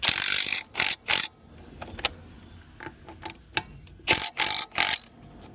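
Lug nuts are tightened on a trailer wheel in a cross pattern, with repeated sharp bursts of ratcheting and clicking separated by brief pauses and light metallic taps, close and fairly loud.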